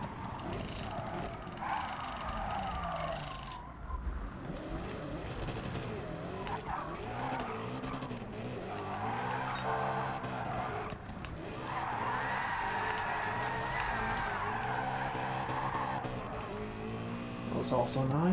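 Race car engine in Gran Turismo 7 revs through rising and falling gear changes, with tire skidding and squeal throughout a lap, loud and continuous while someone talks over it.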